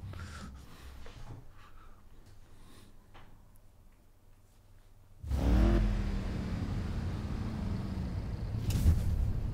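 A car engine in the racing game Need for Speed Payback, quiet at first, then a sudden loud surge as the engine rumbles and revs under acceleration, staying strong to the end.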